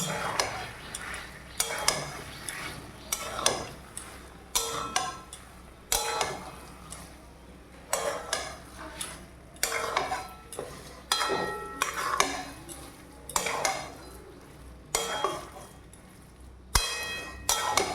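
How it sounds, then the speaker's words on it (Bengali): A spoon scrapes and knocks around a pan of Bengali muri ghonto made with fish heads, rhythmic stirring strokes roughly every second or two, close and clattery, with no talking. "এবার ভালো করে সুন্দর করে নাড়াতে হবে"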